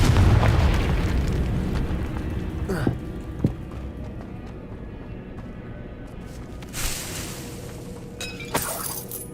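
A Confringo fire spell in Hogwarts Legacy bursts loudly at the start with shattering debris, followed by scattered fainter pops and crackles and a few later crashes amid background game ambience.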